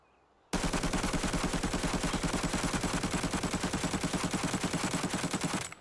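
An AKM rifle firing a long sustained full-auto burst in the Arena Breakout shooter game, with rapid evenly spaced shots at a loud, constant level that start abruptly and run almost five seconds.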